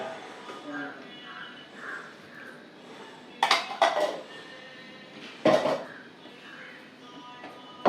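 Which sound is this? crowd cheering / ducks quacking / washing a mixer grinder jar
washing a mixer grinder jar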